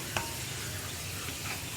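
Ginger frying in oil in a pan over a high flame for puli inji, a steady close sizzle with a brief stir or clink near the start and no talk.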